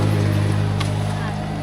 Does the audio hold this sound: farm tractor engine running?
yes